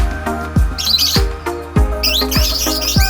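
Pet lovebirds, a green and a blue, chirp and tweet loudly and close by, with sharp repeated calls and squawky bursts in a lively, irregular rhythm.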